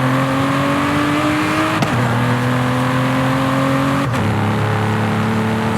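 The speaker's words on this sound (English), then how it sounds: "it's got this very generic Aston Martin V12 sound, which this car is" An Aston Martin V12 in the video game Forza Horizon 5 revs hard through the gears, its droning engine note climbing and dropping sharply at two quick shifts, loud and close with no talk.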